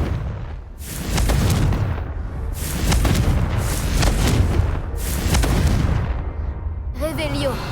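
Repeated Confringo spell blasts go off in the video game Hogwarts Legacy, heavy booming explosions in rough succession with rumbling tails, loud and close, then a brief voice at the end.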